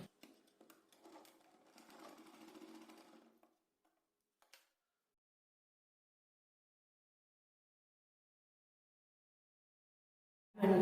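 A sewing machine runs in a short burst of rapid close stitching while a blouse seam is joined, then stops and falls silent for several seconds.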